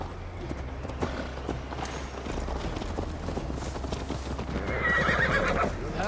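Horses gallop at a steady, dense clip-clop as riders travel toward Tamworth in Assassin's Creed Valhalla, with an occasional whinny and faint game ambience beneath the continuous hoofbeats.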